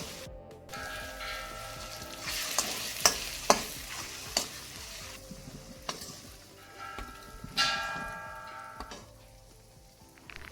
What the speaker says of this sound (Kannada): ಸ್ವಲ್ಪ ಚಿಲ್ಲಿ ಪೌಡರನ್ನು ಹಾಕಿ ಅದರಲ್ಲಿ ಎಣ್ಣೆಯಲ್ಲಿ ಮೊಟ್ಟೆಯನ್ನು ಸ್ವಲ್ಪ ಫ್ರೈ ಮಾಡೋದು.